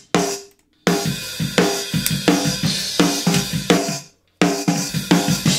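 Drum overheads blended with the snare in a mix play a steady beat of sharp snare cracks and washing cymbals, loud and alone, with two short silent breaks.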